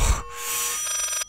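Electronic telephone ring inside the horror game Layers of Fear, a bright trilling bell tone that starts after a dull thud and sustains steadily for about a second before cutting off abruptly.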